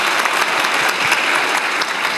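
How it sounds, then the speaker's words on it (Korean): Audience at a Korean science talk event with young future scientists gives a dense, sustained round of applause, close and fairly loud, with no speech over it. "박수 한번 주세요."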